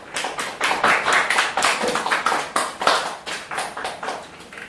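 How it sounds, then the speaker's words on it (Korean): A lecture audience applauds steadily, a dense patter of many hands clapping that holds for several seconds before beginning to fade. "정병기 선생님을 큰 박수로 모셔보겠습니다"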